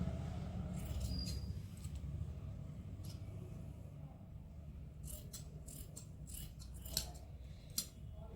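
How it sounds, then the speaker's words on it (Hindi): Scissors cut strips of fabric for making socks, a handful of crisp snips clustered toward the end over a steady low room hum, fairly close and alone with no talk. "ये पैर की पट्टी भी हमने काट ली है, दोनों सॉक्स भी हमने काट लिया।"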